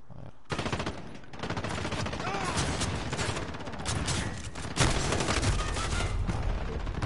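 Rapid automatic gunfire and dense shot bursts in the Call of Duty video game, with an R9-0 shotgun in play, loud and nearly continuous after a brief quiet start, with faint voices mixed underneath.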